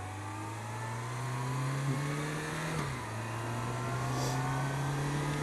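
A motorcycle accelerates onto an expressway, its engine tone climbing steadily, dipping briefly at a gear change, then rising again under a wash of wind noise, with no talk.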